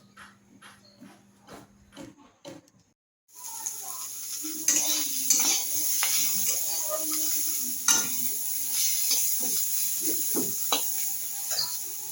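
Bitter gourd frying in a pan alongside rice cooking on the stove: after a few early clinks of utensils, a steady hissing sizzle sets in, broken by occasional stirring scrapes and taps.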